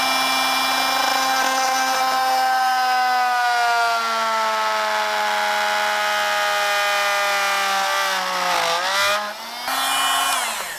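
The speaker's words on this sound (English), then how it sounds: "When you're using the oscillating tool at the edge, be very careful." An oscillating multi-tool cuts into a damaged laminate floor plank with a loud, steady high-pitched whine whose pitch slowly sags under load, briefly dipping near the end before recovering, close and continuous.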